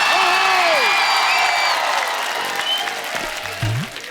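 Steady, loud studio audience applause with some cheering welcoming Salman Khan onto a comedy talk show stage, continuous clapping under background music.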